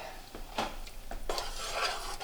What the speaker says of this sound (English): And now I'll just add all the crab meat that I picked and then an all extra that I bought. And then we'll stir that in.